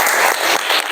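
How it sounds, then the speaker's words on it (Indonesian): Applause from a class of students for their classmates, a steady burst of many hands clapping close by that fills the whole moment without speech. "tepuk tangan untuk teman-teman kita"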